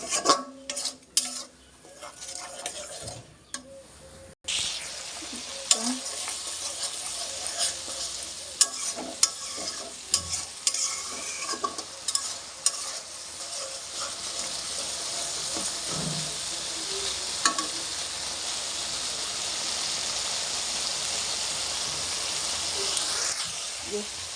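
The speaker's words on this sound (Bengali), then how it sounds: "মশলাটা আমি ভালোভাবে কষে নিব" Spice paste sizzles and hisses in a pan while being stirred and sautéed, a steady close frying noise with some scraping, and a voice speaks at times.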